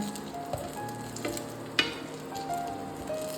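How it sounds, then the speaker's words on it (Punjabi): Eggplant pieces fry in hot oil in a pan, a close steady sizzle punctuated by a few crisp spatula scrapes and clinks, one sharper knock near the middle, with no talking. "ਬਾਕੀ ਬਚੇ ਹੋਏ ਬੈਂਗਣਾਂ ਨੂੰ ਵੀ ਆਪਾਂ ਫਰਾਈ ਕਰ ਲਾਂਗੇ"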